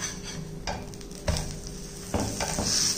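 Sorghum roti frying in a few drops of ghee on a hot pan after being flipped, a close, steady sizzle with light scraping and stirring noises, no voices.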